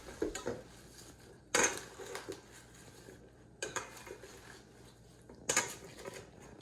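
Tossing a grilled salmon salad with cucumber and tomatoes in a bowl, with irregular clatters of utensils against the dish and a few sharp scraping bursts between quieter stirring.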